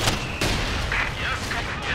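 Mortar fire and battle noise from Company of Heroes 2, with dull booms and thuds rolling under a dense, loud wash of combat sound and some voice.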